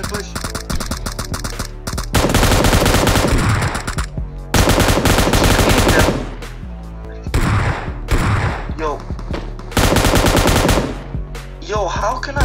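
PUBG battle royale gunfire, a game version 0.14.0 match: loud, rapid automatic bursts rattle in long volleys separated by brief pauses, with quieter single shots between and players talking over the action.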